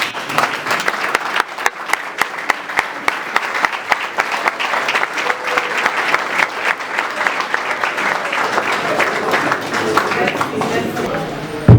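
An audience rises and applauds in recognition at a political gathering, loud, dense clapping with sharp individual claps standing out, continuing steadily throughout with voices mixed in.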